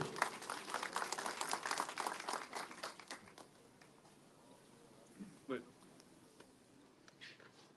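An audience applauds as a speaker is welcomed onto the stage at a presentation of new municipal service vehicles, with dense clapping over the first few seconds that then fades to a few scattered claps and quiet room noise.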